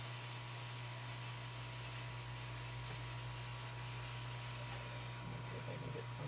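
Hot air rework station nozzle blowing on an iPad mini power management chip with underfill, a faint steady airy hiss with a low hum underneath, continuous throughout.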